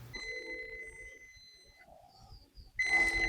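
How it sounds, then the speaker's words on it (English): A kitchen timer goes off while a pineapple upside-down cake bakes, sounding steady electronic tones that are faint at first and then ring out louder and brighter near the end. "All right, the timer is going off."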